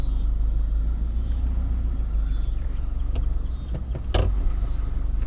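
A 2008 Suburban with a newly installed engine rumbles along at low speed, a deep steady drone close by, with a short clunk and rattle near the end.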